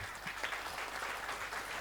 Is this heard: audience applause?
yes